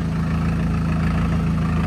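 A small tractor sits on a weighbridge with its engine idling, giving a loud, steady, low mechanical chug that holds throughout with no talking.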